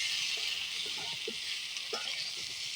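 Potatoes frying in a pan give a steady, hissing sizzle close by, with faint talk underneath and a few soft stirring knocks.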